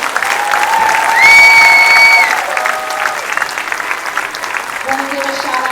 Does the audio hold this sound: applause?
yes